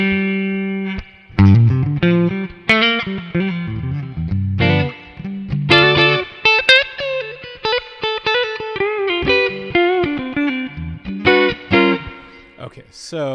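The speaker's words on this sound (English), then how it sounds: "that was my 68 reissue Fender reverb" Electric guitar played through a Kemper profile of a 68 reissue Fender Deluxe Reverb amp, with loud, sustained chords and single notes ringing out in a varied phrase, no talking over it.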